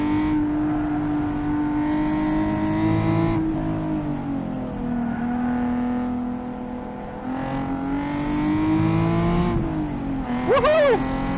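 A modified Nissan 370Z driven hard on a race track, its engine droning loud and close while revs climb, fall away on downshifts with rev-matching blips, then surge again through the gears.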